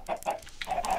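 Minecraft chickens cluck in quick, close, short bursts, a few distinct clucks packed into a single second with no talking.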